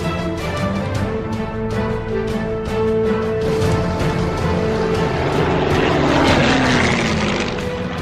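A Yak-9 Soviet World War II fighter's propeller engine roars loudly and continuously, a steady throbbing drone that swells slightly as the plane passes close by.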